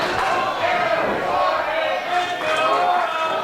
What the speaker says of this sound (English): listen to the crowd get behind Eric Martin here